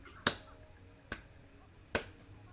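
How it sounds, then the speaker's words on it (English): Three sharp, quiet hand claps land alone at an even, unhurried pace, each a crisp snap that dies away quickly. "A clap for joy."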